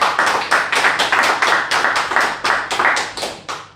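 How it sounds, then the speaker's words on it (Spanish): A church congregation claps in a strong, regular rhythm, sharp unison beats repeating at a steady pace, close and loud with no talking over it. "Entonces bríndenle un fuerte aplauso al Señor."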